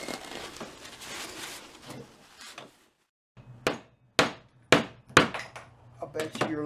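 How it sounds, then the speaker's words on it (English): Tension pins are driven with a hammer into the wooden neck joint of a cigar box guitar. A noisy stretch gives way to about six sharp, close hammer strikes spaced roughly half a second apart. "I just drove down those tension pins down into here"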